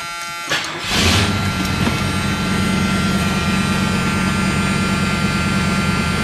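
A Ford LTD car engine idles steadily after transmission maintenance while the car sits on jacks. The engine catches with a brief burst near the start, then gives a loud, continuous droning hum with no talking.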